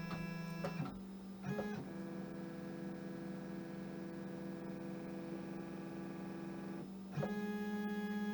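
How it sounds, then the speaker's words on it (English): A CNC machine measuring tool length against a bit setter while milling a cigar ashtray, a steady tonal motor whine that shifts pitch, holds for several seconds, then steps back up, with no talk. "the next step is to have the machine measure the length of the tool"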